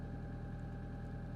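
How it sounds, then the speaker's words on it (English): A car engine idles steadily while warming up in a state forest, a low, even, faint hum with no talk over it. "I'm warming up the car. I'm not sure if you can hear that."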